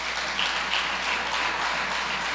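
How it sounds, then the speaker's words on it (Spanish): A church audience applauds in a dense, steady wash of clapping, moderately loud and continuous from start to finish, with no speech over it. "vamos a brindarle un fuerte aplauso,"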